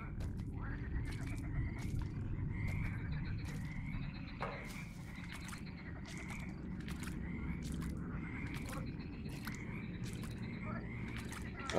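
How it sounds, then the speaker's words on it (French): A frog croaks repeatedly in a video game set among wooden walkways and lights, short croaks recurring at a steady rhythm over a dense, continuous ambient bed. "la grenouille m'a fait flipper"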